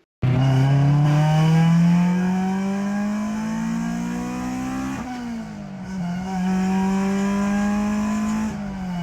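An Acura Integra GS-R engine revs hard, its rising tone climbing steadily before a sharp shift as VTEC switches to the high cam lobe, then pulls on loud and close, without talk.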